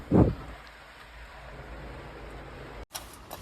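Steady rain hisses throughout, with a dull thump near the start and a brief break near the end.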